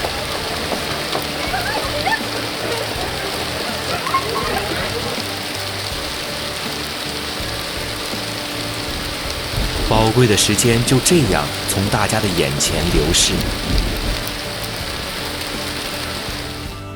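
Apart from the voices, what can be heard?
torrential downpour on an outdoor stage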